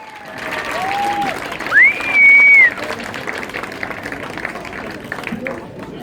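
A dance contest audience at the Madina Marmara in Marrakech claps and cheers loudly, sustained applause with whistles rising over the crowd while a host talks over the amplified sound.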